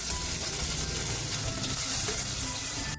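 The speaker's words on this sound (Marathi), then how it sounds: "रगड्यासाठी कांदा, टोमॅटो वगैरे परतून घ्यायचे आहे।" Onion and tomato sauté in hot oil in a pan for ragda, a loud, steady sizzling and frying hiss heard up close with no talking, cutting off abruptly at the end.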